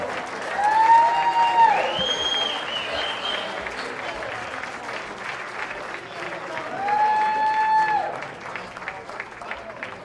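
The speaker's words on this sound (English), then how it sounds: "Let's have a big round of applause for this great, great swim team." Applause for a high school swim team at an athletic hall of fame awards dinner, a broad clapping crowd that swells near the start and again near the end, with a few voices and cheers mixed in.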